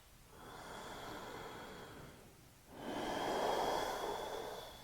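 A yoga teacher holding downward facing dog in an Ashtanga class takes one slow, audible breath, a long airy inhale, a short pause, then a fuller, louder exhale, close and alone.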